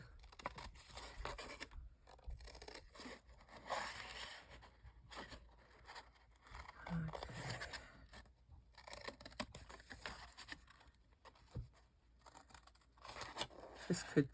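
Scissors cutting a paper flap on a handmade cover, with quiet, close snips and scraping paper rustles coming in uneven bursts, with no talk.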